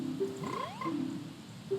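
Frogs in Zelda: Majora's Mask give several musical croaks, with pitched tones, a sliding rising call and short held notes, all close and clear over a soft background.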